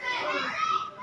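Children playing outdoors at a nearby school across the street, a continuous distant babble of many young voices shouting and chattering, heard steadily from indoors.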